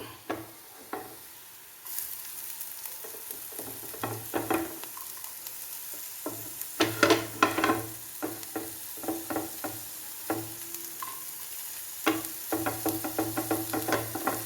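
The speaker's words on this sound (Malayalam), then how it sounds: "കൊച്ചുള്ളി ഒന്ന് മൂത്ത് വരട്ടെ. ഉള്ളി മൂത്ത് വരുന്നുണ്ട്." Shallots, ginger and garlic fry in a pan for a lemon curry, giving a steady sizzle broken by irregular clicks and scrapes from stirring. It is close and moderately loud, with no talking.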